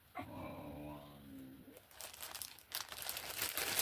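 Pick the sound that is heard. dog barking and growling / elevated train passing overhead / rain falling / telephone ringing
dog barking and growling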